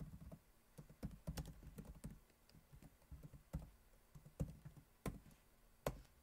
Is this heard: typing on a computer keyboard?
yes